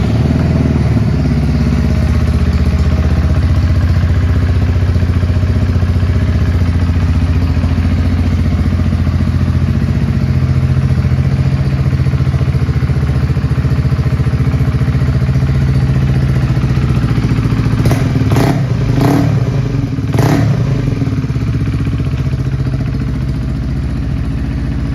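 Honda CB125R 125cc motorcycle from 2018 runs close by with a steady, loud engine drone throughout, broken by a few sharp clattering blips near the end; no voices.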